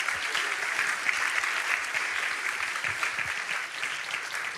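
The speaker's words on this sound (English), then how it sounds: "Round of applause, everyone" A conference audience gives a round of applause after a talk, steady and dense clapping from many hands filling the room at an even level throughout, with no voices standing out.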